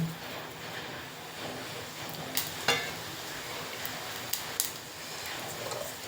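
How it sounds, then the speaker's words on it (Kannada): Mustard seeds and cumin sizzle steadily in hot oil, a continuous crackling fry with a few sharper pops and clinks partway through, close and moderately loud with no talking. "ಈಗ ಎಣ್ಣೆ ಕಾದಿದೆ ನಾವು ಈಗ ಸಾಸಿವೆ ಜೀರಿಗೆ ಹಾಕ್ತಾ ಇದ್ದೀವಿ"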